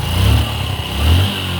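Motorcycle engine revving up and easing back twice in close succession, a loud low-pitched mechanical roar heard up close during a voltage regulator check, with a steady high whine running underneath and no one speaking.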